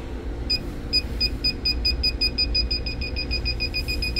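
A GasMate refrigerant leak detector sounds a steady train of sharp, high electronic beeps, evenly spaced and fairly loud, while it is swept around the TXV of an R-290 system, with a constant low background rumble beneath and no talking.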